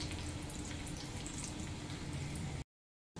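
Mustard seeds popping and finely chopped onion frying in hot oil, a tempering for coconut chutney: a continuous, close, hissing sizzle with scattered crackles that cuts abruptly to silence near the end before returning briefly.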